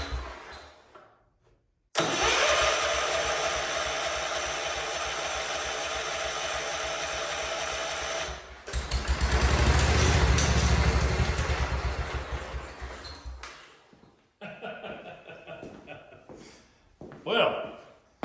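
An old car engine on choke cranks, then catches and runs loudly and roughly for several seconds, surges higher, and stumbles before dying, with brief sputters and restarts after that.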